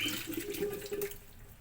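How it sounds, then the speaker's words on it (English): Syrupy liquid drained out of a can of fruit cocktail splashes and gurgles into a sink, a brief steady pour heard up close with no talking. "remove the water from this fruit cocktail. So now this one, we don't need the water. I'm gonna throw the water."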